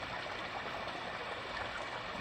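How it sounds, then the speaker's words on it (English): A waterfall outdoors in a natural setting produces a steady, faint rushing wash of falling water, constant and unbroken, with no voices. "You hear the water fall sound very strong, very nature, it's like a nature sound."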